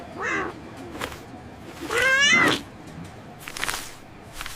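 A cat meows twice, a short call followed by a longer, louder rising-and-falling meow, close by with no talking.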